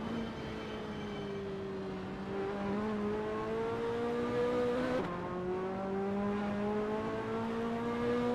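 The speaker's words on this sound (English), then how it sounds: "That ASRL Ferrari F40 looks good driving through Starkey's Straight." Ferrari F40 race car on the Donington Park National circuit, its engine holding a steady droning note before a gear change and then rising again, loud and close with no voices.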